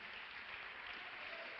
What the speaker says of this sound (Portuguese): Pode aplaudir ao Senhor, Ele é digno de glória e honra.